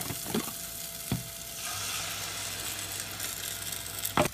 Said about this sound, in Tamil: அரைச்சி வச்சுருக்க பேஸ்ட்டை அதில் ஊற்றி இதை நல்லா வதக்குங்க